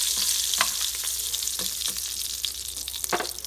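Short ribs searing in an Instant Pot on the saute setting give off a steady, close sizzle and crackle. Sharper spits and pops break through it at irregular moments, and no voices are heard.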